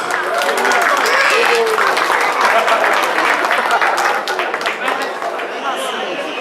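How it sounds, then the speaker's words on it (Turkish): Wedding guests at a couple's ceremony break into loud, continuous clapping after a gold gift is announced, with voices talking over the applause throughout. "alkışlıyoruz"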